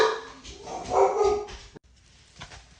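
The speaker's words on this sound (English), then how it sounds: "Hank started barking" A dog barks repeatedly up close in a quick burst. After a brief pause, a few softer yelps and whimpers follow.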